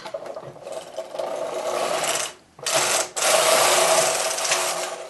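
A knitting machine carriage slides across the needle bed from left to right, a steady close mechanical whirring rasp that breaks off briefly, then resumes and keeps running to the end.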